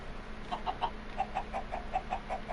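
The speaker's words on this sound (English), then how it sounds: "Now I'm gonna spawn in some chickens." Spawned chickens in a video game give a regular string of about ten short, soft clucks over a faint steady background hum.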